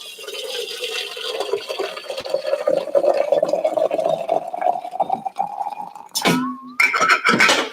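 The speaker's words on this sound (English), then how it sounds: "Let us add our water here." Hot, freshly boiled water pours steadily into a coffee brewer for about six seconds with a rising fill tone, followed by a couple of brief clinks and handling sounds.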